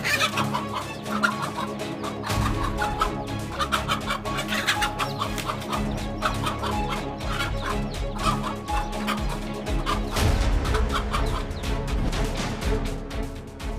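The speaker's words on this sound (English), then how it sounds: "Let's see how a mother hen protected her chicks against this voracious predator." A mother hen clucks repeatedly while guarding her chicks, with a busy, steady run of sharp clucks and calls throughout and no speech.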